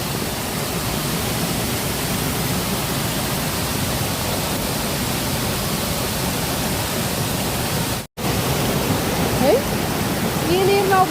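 Jog Falls in the monsoon gives a dense, steady roar of falling water, loud and unbroken apart from a brief dropout, with faint voices mixed into the rush.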